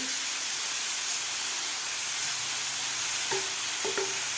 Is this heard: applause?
no